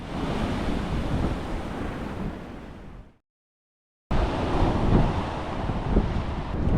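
Strong ocean waves at a beach give a loud, continuous roar of surf mixed with wind buffeting the microphone, broken by a second of silence before resuming.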